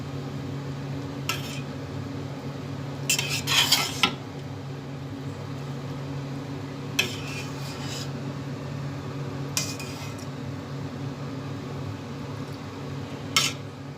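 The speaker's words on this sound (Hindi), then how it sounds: "अब हम इन्हें सबको अच्छे से मिक्स कर देंगे" Rice for mattanjn is mixed in a metal pot. Several scattered scraping and clinking strokes of a spoon sit over a steady low fan-like hum, with quiet pauses between bursts.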